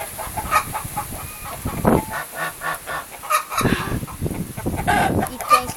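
Chickens in a yard give rapid, overlapping clucks and squawks close by, filling the whole stretch as a busy, steady chatter.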